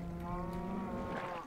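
Minecraft cattle mooing in a Technic modpack game, a single steady low moo with harmonic tone lasting about a second and a half, clear and close with no talk over it.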